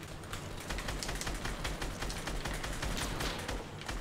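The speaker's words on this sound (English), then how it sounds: "All I can hear is people reloading and shooting." Gunfire and reloading in Fortnite during a squad match, a dense, steady clatter of rapid shots and mechanical clicks with no pauses.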